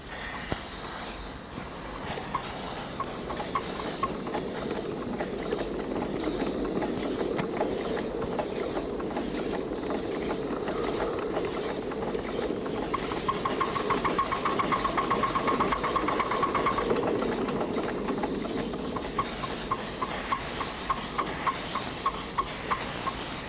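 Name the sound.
live steam locomotive running, cylinders blown out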